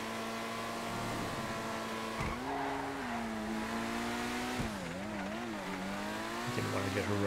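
Cars racing in GTA FiveM, a steady engine drone with shifting revs and gear changes held throughout, with a voice talking over it.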